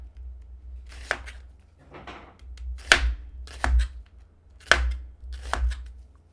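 A kitchen knife slowly cutting thin slices of food for Hayashi rice on a cutting board: six or so crisp, separate chops spaced about a second apart, close and clear over a low background hum.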